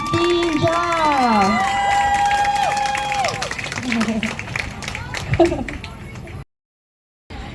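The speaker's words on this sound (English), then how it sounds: "Let's give another round of applause" An audience at a dance competition claps and cheers with shouts and whistles rising over the noise, continuing steadily before a brief silence and a final burst.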